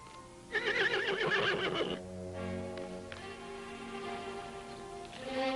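A horse whinnies loudly for over a second, a high shaking neigh, then fades into a quieter stretch with a low hum and faint background noise.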